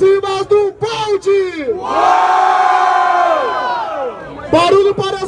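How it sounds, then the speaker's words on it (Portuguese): Crowd at a rap battle final in Barueri, São Paulo, cheering, whooping and shouting loudly. A long, sustained roar swells in the middle, and an amplified host's voice calls out before and after it. "Barulho para as rimas do Balde"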